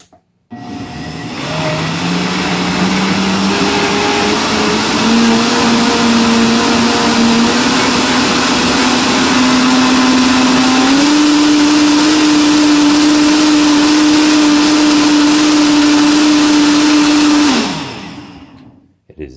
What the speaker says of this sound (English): Definitely nice having one of these professional, heavy duty, grind anything blenders